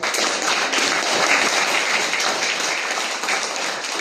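A church congregation at a Sunday service claps together, a thick, even burst of applause that fills the room from start to finish without any talk over it.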